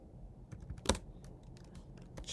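Keystrokes on a computer keyboard while entering code for a C++ programming exercise, a short run of light, close clicks with one sharper tap standing out, no talking.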